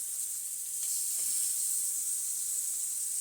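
Blackened shrimp sear in a hot pan with a loud, continuous hiss and sizzle, steady and close throughout with no talking.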